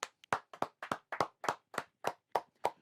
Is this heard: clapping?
yes